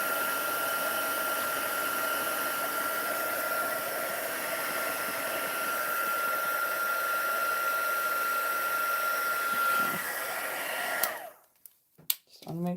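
A heat tool blows steadily on freshly stamped ink on a card, a loud, even whooshing roar held for about eleven seconds before switching off, followed by a few soft handling knocks.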